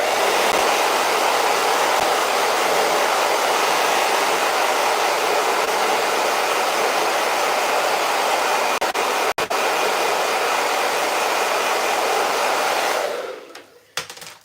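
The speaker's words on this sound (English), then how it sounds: "It might be worth just blasting that really quick with a hairdryer so that it's touch dry" A hairdryer blows steadily at close range to dry freshly stencilled paint, a loud continuous roar for about thirteen seconds before it switches off and winds down.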